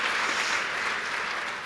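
Audience applause rises as a soft, steady wash of clapping at a distance, faint and continuous with no voices over it.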